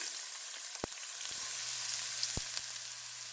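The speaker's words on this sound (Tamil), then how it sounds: "நல்லா எண்ணெய் சுட்டுட்டுக்கு சின்ன சின்ன நல்லா சொப் பண்ணி வச்சுக்கிறேன் ஒனி வெங்காயம் அதை போடுறேன்" Chopped onion dropped into hot oil for a homemade pizza topping, giving a steady close sizzle with two sharp clatters of the spoon or pan partway through.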